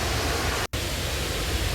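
A waterfall tucked in the back of a park near Ludlowville, Ithaca, a few miles from Lansing, New York, at an old gristmill site, gives a steady, dense broadband rush, broken by one brief dropout.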